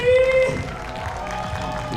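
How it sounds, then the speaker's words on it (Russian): Audience applauding at the end of a children's concert show, a sustained wash of clapping from a crowd with a brief held tone at the start. "Ваши аплодисменты!"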